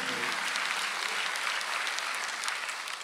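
A church congregation applauding during a Sunday worship service, a sustained, even roar of many hands clapping in a large hall, moderately distant and steady, with a pastor's voice faintly over it.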